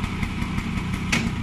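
A motorcycle engine idles close by with a steady low rumble and faint mechanical ticking, no voices heard.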